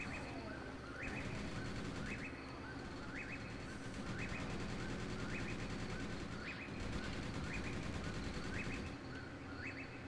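Rapid gunfire strikes a tank in the Angolan Civil War battle game Graviteam, a quiet, regular run of short bursts repeating about once a second over a steady low rumble.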